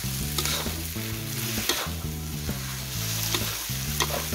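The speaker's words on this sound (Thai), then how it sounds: "ผัดให้เข้าแห้งๆก่อนนะคะเข้าแห้งๆนะคะ" Pink fried rice with shrimp, pork, crab stick and egg is stir-fried dry in a pan, a constant dense sizzle with spatula strikes every second or so, under steady background music with no talk.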